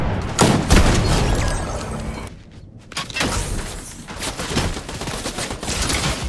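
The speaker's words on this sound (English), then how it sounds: "then I heard gunshots, so I saw those two fighting, so I joined." Rapid gunfire from Fortnite crackles in dense, loud bursts. It stops in a brief lull, then resumes as sharp, overlapping shots with booming impacts.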